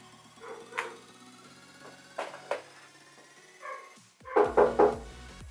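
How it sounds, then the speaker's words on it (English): A dog barks indoors in a scattered series of sharp yaps, a few spaced apart and then a quick louder burst of several near the end, over a quiet room. "now that's my dog barking."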